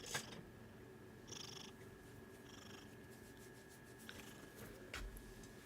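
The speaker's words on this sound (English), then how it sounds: "she's purring away like she always does." A cat purring softly and continuously, a low steady rumble close by in a quiet room, with a few faint rustles and no talking.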